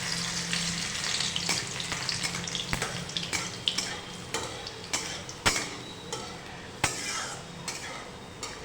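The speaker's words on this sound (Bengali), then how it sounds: "দিয়ে দিচ্ছি থেতো করা রসুন" Crushed garlic frying in a pan for a spicy okra (bhindi) masala fry, a continuous close sizzle broken by repeated sharp clinks and scrapes of a spatula stirring against the pan.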